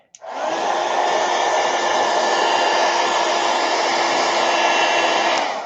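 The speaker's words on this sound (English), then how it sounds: "I'm gonna give it some hot air. I'm gonna blow it, Eileen." A heat tool blows hot air onto wet paint, a loud, steady, close whirring hiss that starts abruptly and holds evenly for several seconds before cutting off.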